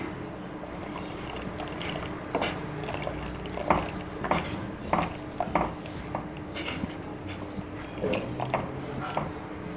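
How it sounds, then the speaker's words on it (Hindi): A spoon stirs custard liquid in a pot for Nawabi seviyan, a sweet vermicelli dessert, with repeated metallic clinks and scrapes over a steady low hiss, close by. "कस्टर्ड लिक्विड आपने ऐड करना है और साथ साथ चम्मच को चलाते जाना है"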